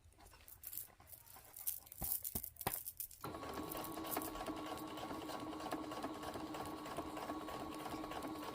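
A sewing machine stitches an invisible zipper onto fabric, starting with a few sharp clicks and handling noises before settling into a continuous, steady motor whir at close range.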